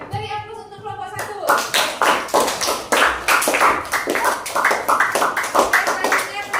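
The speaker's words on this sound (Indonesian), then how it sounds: "dari aplaus untuk kelompok 1" Classroom applause for the first group after their presentation: a voice speaks briefly, then a group claps in a fairly steady, rhythmic burst that goes on for several seconds, loud and close.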